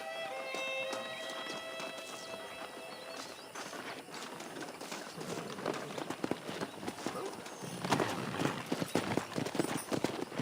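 Horse hooves clop in Red Dead Redemption, a rhythmic trot that builds louder and faster toward the end over a bed of game ambience and music tones, with no clear talking.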